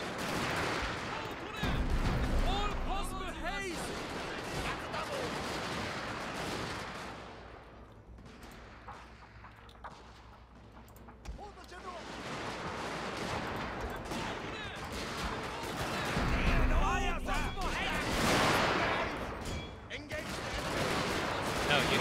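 Massed musket volleys from units in the Total War Shogun 2 Fall of the Samurai battle, ragged crackling bursts of gunfire swelling and fading in waves, with game sounds and some voices mixed in.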